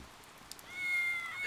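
Steady rain in the medieval trade-sim game Die Gilde 3, a soft, even hiss of falling drops that swells slightly partway through, with a thin tonal whine above it and no talking.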